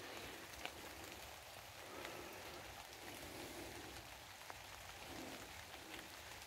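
Rain falls steadily outdoors in a hazelnut orchard, a soft, even patter of drops that stays faint and distant throughout, with no voices.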